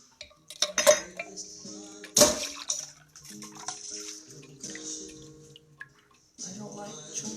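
Stirred gin martini with a dash of absinthe strained off the ice: sharp clinks of ice and barware, then a thin trickle of liquid pouring into the glass, close and fairly quiet.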